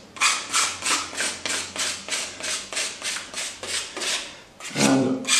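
A filling knife scraping excess filler off a wall during room preparation, about a dozen rhythmic rasping strokes in steady succession, close and clear, ending in a heavier scrape, with no talking.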